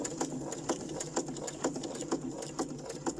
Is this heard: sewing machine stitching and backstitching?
yes